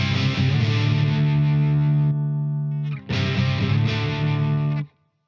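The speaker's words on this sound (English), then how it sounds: "Now I put on the boost." Electric guitar played through a Boss Waza BP-1w booster/preamp pedal switched on, two sustained thick, harmonically rich chords ringing loud and close, separated by a short gap, then cut off.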